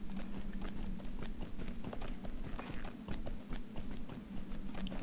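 Hoofbeats of a goat mount ridden through a dwarven hall in the online game Lord of the Rings Online, a steady brisk clip-clop patter of hooves, close and continuous over a low ambient hum.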